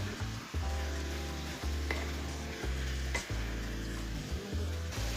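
Spinach being stirred into a radish curry in a pan, heard as repeated scraping strokes over a low cooking hum, with a few soft clicks.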